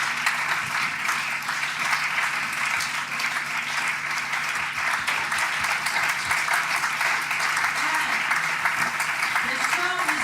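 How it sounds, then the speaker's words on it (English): Dense, continuous clapping from a large audience at a business summit, even and sustained for about ten seconds, with murmured voices faintly beneath. "A big applause"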